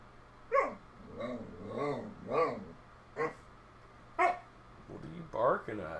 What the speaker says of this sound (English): What are you barking at? Chill out.